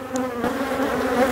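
Honeybees buzz steadily around hive frames during swarm-making on the Mediterranean coast, a close, continuous drone with shifting pitch.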